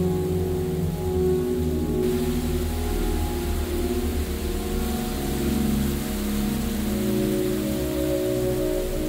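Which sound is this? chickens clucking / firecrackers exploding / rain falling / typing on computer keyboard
rain falling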